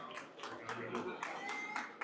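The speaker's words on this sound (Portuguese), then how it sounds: "uma salva de palmas para ele" Audience at a coffee business event clapping for a guest being welcomed on stage: a few distinct, rhythmic claps, fairly faint, with voices in the room.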